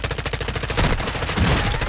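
Gunfire in the Warzone battle royale game: rapid, dense automatic fire rattles on without a break, loud and close, filling the whole moment.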